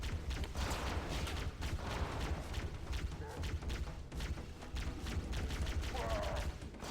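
Gunfire rattles in the Halo video game while the player shoots at Hunters, with rapid repeated shots in bursts over a continuous muffled game background and a faint voice at times.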